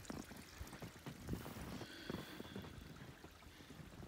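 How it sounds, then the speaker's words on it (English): A small creek keeps flowing through a snowy Arkansas winter landscape, giving a steady close wash of running and trickling water with no voices. "But our little creek is still flowing"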